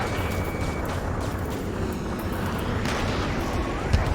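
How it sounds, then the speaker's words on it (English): Combat in Ace Combat 7: Skies Unknown over a city under martial law, with a continuous dense low rumble of distant gunfire and explosions, a faint jet whine in the background and a sharper boom near the end. "Gunfire and the roar of jets echoing through the streets."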